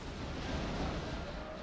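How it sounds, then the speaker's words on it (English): Ship cannon fire in the pirate sailing game Sid Meier's Pirates, heard as a dense, continuous roar of booming blasts at moderate level that runs through the whole moment with no talk over it. "Oh, you want to fire cannons, huh?"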